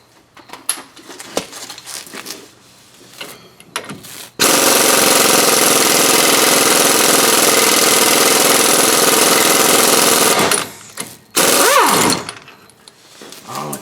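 An air impact gun works on the front brakes and ball joints of a 2003 Dodge Ram 4x4, hammering loud and continuous for several seconds, pausing briefly, then rattling again, with scattered clanks before and after.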